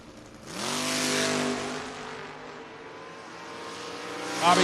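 An Opel and a Mustang launch off the line at a footbrake drag race, engines bursting into a loud rising roar that holds and then recedes into a distant drone, with a sharp tire squeal near the end.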